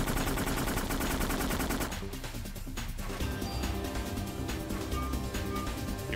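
Rapid SMG gunfire from the Parasite Eve video game, a dense, loud continuous burst for about two seconds, then scattered shots and game noise continuing underneath.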